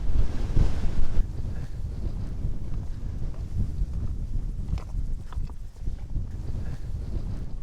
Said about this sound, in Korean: 거센 바람이 들꽃과 풀잎 사이를 휘몰아치며 환영해주고 있습니다